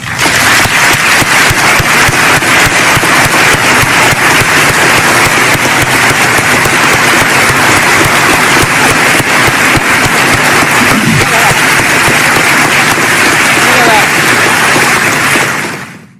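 A large audience applauding loudly and continuously during a presidential address, dense rapid clapping sustained for about fifteen seconds before fading out abruptly.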